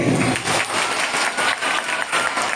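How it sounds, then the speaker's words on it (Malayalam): A school audience claps together, dense loud applause from a large crowd of students that carries on steadily without a break. "പാട്ട് വേണമെന്നുള്ളവർ കൈയടിക്കുക."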